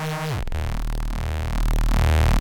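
A detuned, distorted bass synth patch built in Serum, the basis of a neuro bass, plays as a loud, thick, continuous buzzing tone with a wobbling, phasing texture that swells slightly toward the end, with no voices.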